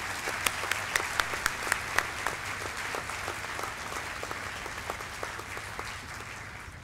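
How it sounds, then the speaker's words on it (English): An audience at a school academic assembly applauds, starting with a few loud, distinct claps that quickly merge into sustained, even clapping from a sizeable crowd. "Let's give these boys one more round of applause."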